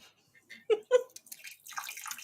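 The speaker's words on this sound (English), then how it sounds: "It's the water cooler." A skull-shaped water cooler dispenses water in a quiet room: a couple of gurgling glugs followed by a trickling, splashing pour into a cup, close and fairly soft.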